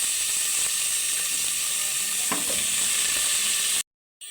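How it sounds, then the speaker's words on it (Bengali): Vegetables for a potato, pointed gourd and papaya fish curry are stirred in a hot pan over a loud, steady sizzle with a few scraping strokes, cutting off abruptly near the end. "দিয়ে ভালো করে একটু নেড়ে নেব।"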